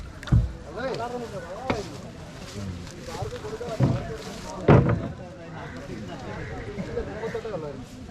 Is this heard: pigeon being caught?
no